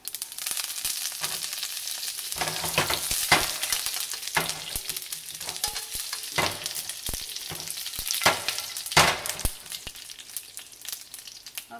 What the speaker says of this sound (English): now we are gonna add curry leaves in there